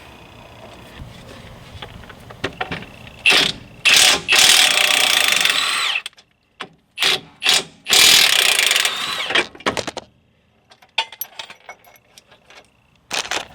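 A ratchet loosens the steering shaft bolt on a Jeep Wrangler TJ beside the steering gearbox, sounding as loud, close bursts of rapid clicking separated by pauses, with faint clinks and handling noises between.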